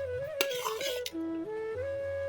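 Rice being served from a pot with utensils at a Bengali home meal, a few clinks and scrapes standing out over a steady tonal hum.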